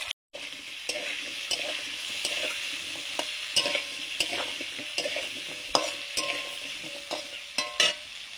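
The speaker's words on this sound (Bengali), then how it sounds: "আগে আলুগুলো ভেজে নিচ্ছি" Potatoes fry in a pan with a steady bright sizzle, punctuated by regular spatula clicks and scrapes from stirring, close and fairly loud, with no talking.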